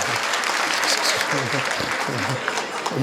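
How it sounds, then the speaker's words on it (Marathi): Audience clapping loudly during a humorous kirtan, a steady wash of applause throughout with a voice speaking over it. "टाळी वाजवा राव जोरात"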